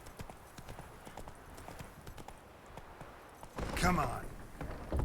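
Hooves of Roach, the horse in The Witcher 3, clip-clop in a steady walking rhythm, crisp and close, with a brief louder burst near the end and a voice talking over them.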